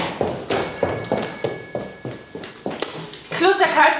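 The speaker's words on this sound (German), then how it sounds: "Telefon! Ich bin nicht dran. Telefon!" A telephone rings with a bright, electronic tone for a couple of seconds while people talk loudly over it.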